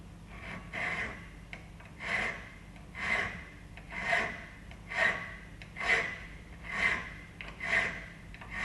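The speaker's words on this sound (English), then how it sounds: "we're going to use the same safety edge of the file against the jig, and we're going to file down to a measurement of 2 mil" A hand file worked flat across metal held against a jig, rasping strokes about once per second, each a rising and falling scrape, close and fairly quiet, with no talk.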